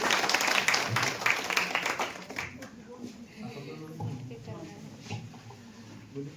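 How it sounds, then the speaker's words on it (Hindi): Applause from a gathering at a public meeting on human trafficking in Gomia, Bokaro, welcoming the Block Development Officer, loud for the first two seconds and then fading into a murmur of voices and background talk. "एक बार जोरदार तालियों से स्वागत करें"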